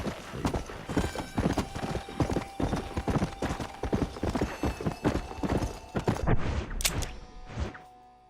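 A video-game horse gallops in a fast, steady clip-clop of hooves, with a whinny rising near the end before the hoofbeats fade out.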